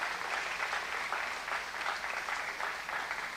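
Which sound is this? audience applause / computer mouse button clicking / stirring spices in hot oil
audience applause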